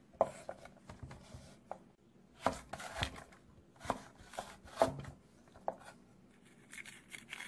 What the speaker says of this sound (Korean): 당근을 또 다른 분들은 채 썰기도 하는데 저는 그냥 이렇게 길게 단무지처럼 이렇게